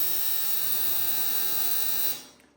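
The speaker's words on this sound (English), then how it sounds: "it's definitely making loud ultrasonic noises" An ultrasonic cleaner used for carburetors runs with a loud, steady high-pitched whine and hum, unchanging for two seconds before it switches off and fades.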